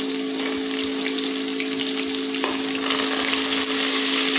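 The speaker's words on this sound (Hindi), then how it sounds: "ये साबित मसाले हैं मेरे पास, और ऑयल में मैंने इसको डाल दिया है। थोड़ा सा फ्राई करेंगे लो फ्लेम पर ऑयल में" Whole spices fry in oil over a low flame, giving a steady, close crackling sizzle with fine popping throughout and no talk.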